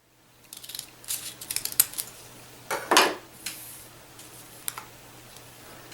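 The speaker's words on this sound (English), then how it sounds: "Then I'm going to take my scissors, and on the side that has all the open paper, I'm just going to cut out my petals" Scissors snip through open paper to cut out petals for a handmade paper rose, a close run of short crisp cuts with one louder longer slice in the middle, no talking.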